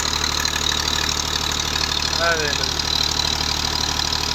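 A Romanian-made Farmer 533 tractor engine idling, a loud steady rumble with a constant drone, running beside a deep turbine well pump; someone speaks briefly over it.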